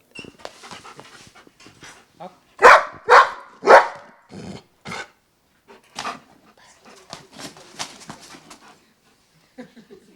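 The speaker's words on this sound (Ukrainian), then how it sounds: "Та собака Бер на кожному етапі підтримує свого господаря і дарує безмежну любов усім відвідувачам волонтерського штабу." A dog barks several times in quick succession at a volunteer headquarters, loud and close, with panting and softer vocal sounds before and after the main burst of barks.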